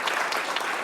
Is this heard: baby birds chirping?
no